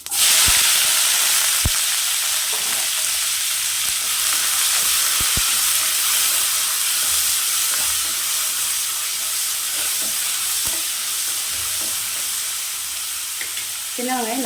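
Crushed small shallots sizzle loudly in a hot pan while sautéing for a gongura chutney, a constant close frying hiss with occasional stirring clinks and scrapes.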